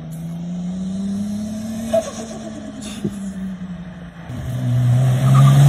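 A Toyota Supra engine revs loudly and steadily, with a pitch that drops and then climbs, plus a couple of brief pops. No one speaks.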